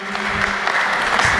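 Crowd at a charity event at a comic convention applauds in a dense, continuous burst, brief and even in loudness, with a faint voice beneath.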